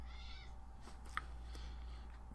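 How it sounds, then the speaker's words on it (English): Cats meowing faintly in the background of a quiet room over a steady low hum, with a few soft, brief mews spread across the stretch. "I hear cats in the background meowing."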